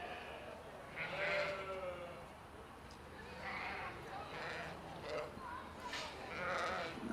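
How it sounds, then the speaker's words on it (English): Ewes bleat at a school livestock show as they are led into the show ring, several faint calls scattered over a steady murmur of crowd talk and a voice over the loudspeaker. "Here comes your second place ewes coming in."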